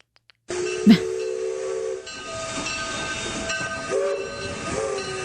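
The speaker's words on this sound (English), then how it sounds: "It's a train. It's a train. It's a train." A steam train rumbles steadily with a hissing, whistle-like tone running through it, a brief louder burst near the start, then continuous mechanical noise.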